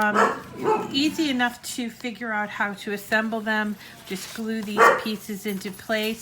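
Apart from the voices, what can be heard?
dog barking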